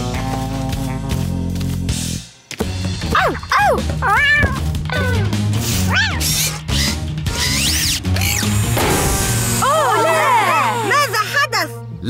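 Cartoon cat meowing repeatedly in short rising and falling cries over busy background music and sound effects, with a character voice talking between the meows.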